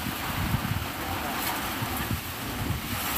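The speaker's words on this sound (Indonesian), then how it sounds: "jadi di sini anginnya sangat kencang sekali teman-teman" Strong wind blowing through a forest, shaking trees around a small hut, a steady broadband roar with gusty low rumbling and wind buffeting the microphone throughout.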